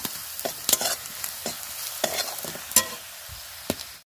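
Fried onions with turmeric and chili powder stirred in a hot pan, a steady sizzle broken by repeated sharp scraping strokes of the spatula at an uneven rhythm, close and without talk.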